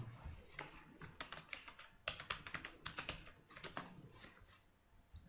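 Text being typed on a computer keyboard, a quick irregular run of light key clicks at close range with brief pauses between flurries, with no talk.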